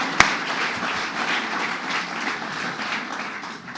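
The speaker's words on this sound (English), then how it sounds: "Sam Roberts, give him a round of applause." An audience gives Sam Roberts a round of applause at a New York state grant awards event, a dense, even wash of clapping from a sizable crowd, fairly distant and moderately loud, holding steady without any voices over it.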